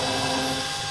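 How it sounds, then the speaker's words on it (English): A power drill bores tiny pilot holes for the mounting bracket of a Red Sea ReefDose 4 aquarium doser, giving a loud, continuous high motor whine for about a second. "I'm just going to drill a couple of pilot holes"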